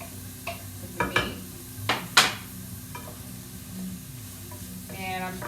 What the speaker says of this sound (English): We're gonna throw in the remainder of the onion we had with the meat.